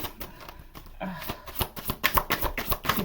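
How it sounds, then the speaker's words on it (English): A deck of playing cards being shuffled by hand, a quiet rustle first and then a run of quick crisp riffling bursts and snaps, close and fairly loud. "Help me to shuffle these cards."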